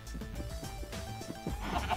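Sheep in the video game Minecraft bleat in a few quick, wavering calls, fairly close and clear over a low, steady game background.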